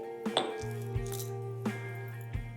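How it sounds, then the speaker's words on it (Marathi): Seven or eight whole green cardamom pods being coarsely pounded, giving four separate hard knocks and clinks of a pestle spaced about a second apart, close and moderately loud with a low ringing hum underneath. "ही जी मी अख्खी वेलची घेतली आहे ती थोडीशी अशी भरडसर कूट करून आपल्याला ह्याच्यात घालायचं आहे"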